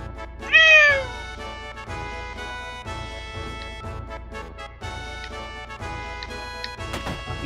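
Cats meow in the Final Fantasy VII video game, with one loud, rising-and-falling meow near the start and fainter calls later over steady game music.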